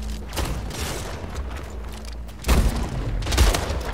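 Rapid gunfire from the video game Splitgate, repeated close shots and booms in quick bursts, with a heavier volley about midway through.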